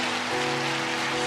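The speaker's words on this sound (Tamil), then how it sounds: "அந்த பெருமழையின் இரைச்சல்," Heavy rain falls with a constant broad rushing hiss, moderately quiet and even throughout, with a faint steady hum beneath and no voices.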